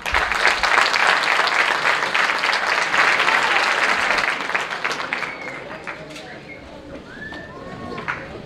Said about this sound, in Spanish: Un fuerte aplauso para ellos de nuevo.